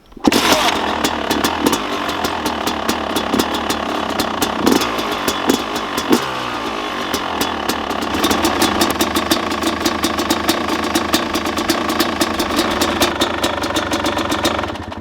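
A Yamaha YZ 250 motorcycle engine idles low and steady, with a continuous rough two-stroke rattle and a few small revs. It is loud and close, with faint clinks in the background.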